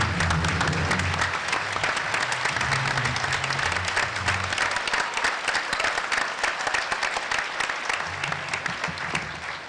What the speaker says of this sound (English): I think we really owe her a standing round of applause